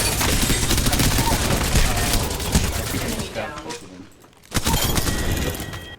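Sustained rapid automatic fire from the Devotion light machine gun in Apex Legends, a dense continuous volley that briefly thins out before bursting back in at full force, with a voice mixed underneath.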